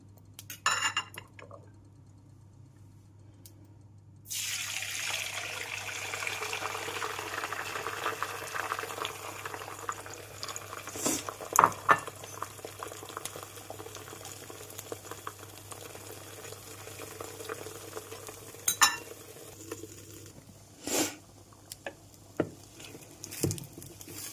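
Beaten egg poured into hot oil in a pan for an egg gravy: after a quiet start, a sudden sustained sizzle rises and continues, with occasional clinks of a utensil against the pan.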